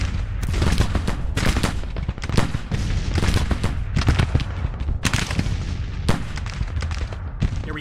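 Civil War artillery blasts away during the Battle of Antietam in the Grand Tactician game, a dense, continuous barrage of overlapping booms and sharp reports arriving in rapid irregular bursts, loud and close.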